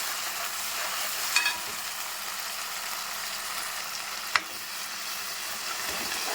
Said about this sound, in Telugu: ఇట్లా మన పచ్చివాసన పోయేదాకా ఇలా వేయించేసుకోవాలి